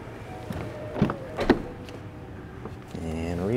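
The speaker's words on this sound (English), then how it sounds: "power opening and closing trunk, push button to close" The power trunk of a 2022 Mercedes-Benz GLC 300 4MATIC is closed with a push button: a few soft clicks and thumps, then a rising electric motor whine at the end.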